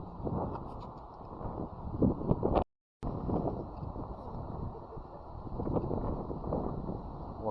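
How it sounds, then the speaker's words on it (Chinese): Strong wind sweeps over open upland in the Scottish Highlands, a heavy continuous rushing roar buffeting the microphone, broken by one brief cut to silence, with no voices. "风很大。"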